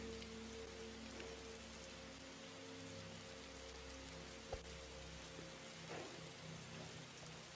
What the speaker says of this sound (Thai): ฝนตกแรงแล้ว